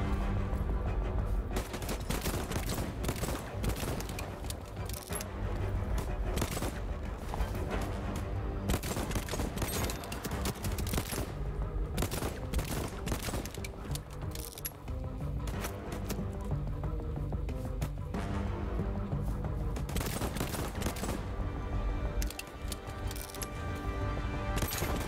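Rapid assault rifle bursts in the Voidtrain game crackle densely and loudly throughout, overlapping volleys of sharp shots with brief gaps, no talking.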